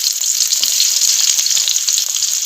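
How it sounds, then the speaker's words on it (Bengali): Chopped onion with dried red chilli, bay leaf and whole cumin fries in oil left over from frying fish, a loud close steady sizzle with a bright crackling hiss and faint stirring, with no voices. "এখন এই পেঁয়াজটা আমি লাল করে ভেজে নেব"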